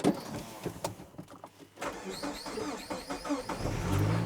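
A Saab car engine cranks and catches, then settles into a steady idle close by, with a whirring electric motor sound near the start.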